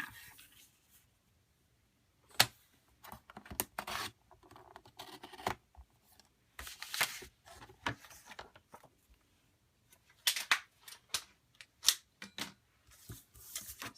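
Scissors cutting through card, crisp snipping and scraping strokes in irregular bursts separated by silent pauses, close and moderately loud.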